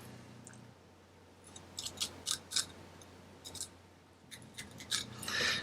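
A knife slicing through a horse mackerel fillet, giving soft, faint crisp scraping strokes in short bursts at a steady pace, with a longer rasping cut at the end and no talk.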